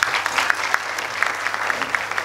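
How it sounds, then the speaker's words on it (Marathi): Audience at a lively Marathi kirtan in Malegaon breaks into steady applause, a dense wash of claps with sharper individual hits rising out of it, sustained and fairly loud throughout. "जोरदार टाळ्या वाजवा महाराज"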